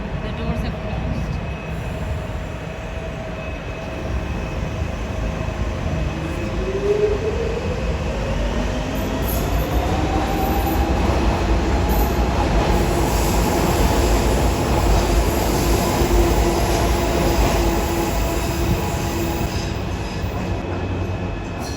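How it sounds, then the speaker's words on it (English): A Docklands Light Railway train at Stratford International station in London rumbles and hums steadily as it pulls away, a rising electric motor whine building over the rolling noise, close by and fairly loud. "Train is now getting ready to depart,"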